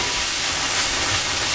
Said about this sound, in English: Some of the water's gonna steam out.